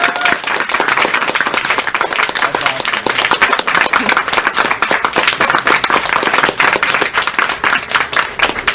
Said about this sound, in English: are you prepared for a lot of clapping